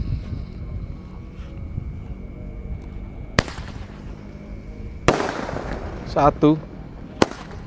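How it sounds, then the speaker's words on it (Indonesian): An 8-shot 1-inch Roman candle firework fires, with sharp loud bursts coming several seconds apart amid outdoor wind noise, and a voice counts briefly between shots. "langsung kita nyalakan Roman Candle-nya. Penutupan ini 8 shot ukuran 1 inci."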